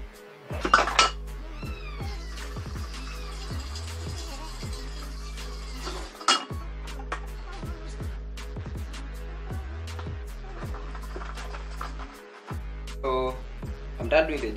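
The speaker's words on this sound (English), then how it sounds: "Doing the dishes" Dishes being washed at a kitchen sink, with repeated clinks and clatters of plates, pots and cutlery over running water, close and busy, with a few louder knocks.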